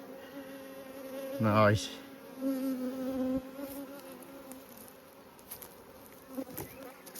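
A prolific, angry honey bee colony buzzes steadily during a hive inspection, with a loud, close bee passing by early on and one brief spoken word over the hum.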